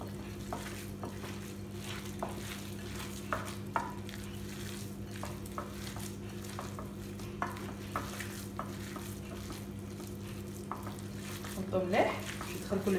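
Hands mixing artichoke dolma filling in a bowl, soft squelching and stirring close up over a steady low kitchen hum, with light taps and a brief clatter near the end.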